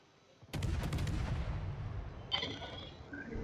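A heavy naval gun salvo booms from a warship in the World of Warships video game, a loud sudden blast that rolls on for a couple of seconds, followed by a second sharper report and fading rumble.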